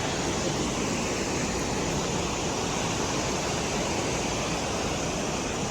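A mountain river flows beside a trail in the Valley of Flowers near Hemkund Sahib, a loud, steady, broadband rush of water filling the whole clip with no voices.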